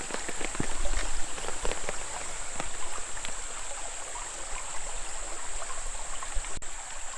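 Indian Creek flows across the trail at a crossing on the Ozark Trail's Current River section, a steady nearby babble of running water with small splashes and a faint high insect drone.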